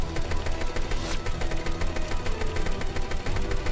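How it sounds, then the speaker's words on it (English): Rapid automatic gunfire from a video game boss fight against Malphas, a steady dense rattle of repeated shots with an engine-like drone underneath, loud and continuous throughout. "Let's keep on shooting him a bit here."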